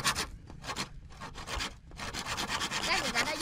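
A hand saw cuts through a long bamboo tube, rasping in steady back-and-forth strokes that are loud and close, with a few brief pauses between passes.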